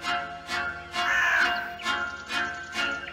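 Crows caw from the trees in the Midnight Scenes horror game, about six harsh, loud calls spaced roughly half a second apart, one drawn-out caw in the middle, with no talk over them.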